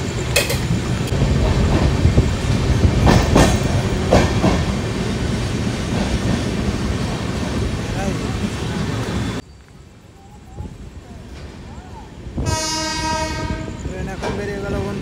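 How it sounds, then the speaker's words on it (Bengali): Agniveena superfast express pulling out of Mankar station on the Howrah–Asansol route, a loud, steady rumble of wheels and carriages with a horn sounding near the end, close and continuous throughout. "ট্রেন এখন বেরোচ্ছে মানকড় স্টেশন থেকে"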